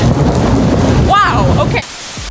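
Heavy rain pours loudly during an outdoor live weather report in a storm, a steady dense hiss with a brief voice rising through it before the downpour cuts off suddenly near the end.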